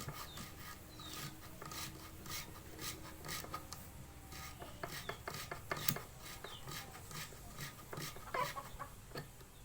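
Cam chain rubbed back and forth over a motorcycle cam part to smooth it on a CBR engine, a faint, rapid rasping and scraping with irregular metallic clicks.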